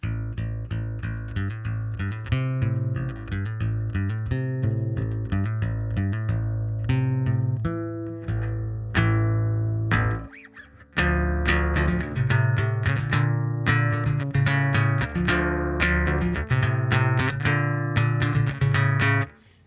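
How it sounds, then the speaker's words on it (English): A carbon fiber bass ukulele with treble boosted plucks a busy riff with a crisp, bright edge, steady and close, pausing once briefly before continuing. "Crispy sound out of that, surprisingly for uke bass."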